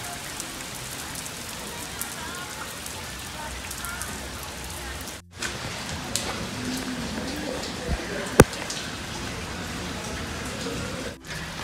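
Rain pouring at a zoo in Copenhagen, heard from shelter under a tunnel as a steady broadband hiss of drops on pavement and roofing, with a couple of brief dropouts and a sharp tap partway through.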